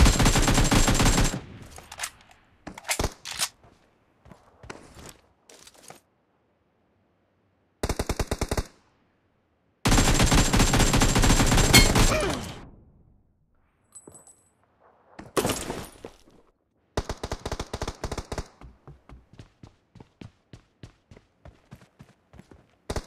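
Gunfire in the mobile shooter BGMI comes in loud, close bursts of rapid automatic fire separated by silent gaps, with single shots and a final long rattling burst.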